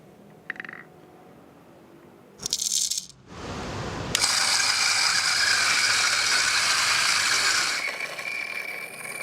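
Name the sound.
grinding lightly roasted coffee beans coarsely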